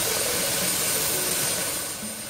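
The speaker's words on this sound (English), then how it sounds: "Police helicopter." A police helicopter sounds as a dense, steady turbine roar and whine, loud and close, easing off slightly at the very end of a brief moment.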